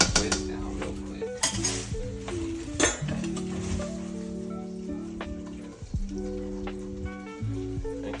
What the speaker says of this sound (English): Might even get me a little whisk down real quick.